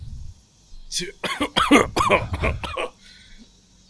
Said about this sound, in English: I stopped because I coughed